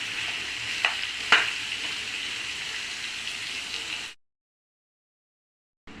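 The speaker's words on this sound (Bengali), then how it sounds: "এরপর মিষ্টি কুমড়াগুলো দিয়ে দিচ্ছি, দিয়ে নেড়ে ছেড়ে" Sweet pumpkin pieces sizzle and hiss in a frying pan as they are stirred, with a couple of sharp clicks early on. The dense sizzling runs for about four seconds, then cuts abruptly to silence.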